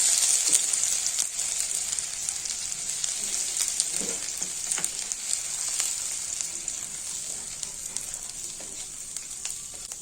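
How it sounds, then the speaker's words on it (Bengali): Chopped ginger frying in hot oil for masala bread pakora: a steady, close hiss and crackle of sizzling oil with small pops scattered throughout, continuous and even with no voices. "তেল গরম হয়ে গেছে, এবার এই তেলের মধ্যে দিয়ে দিচ্ছি আদা কুচি।"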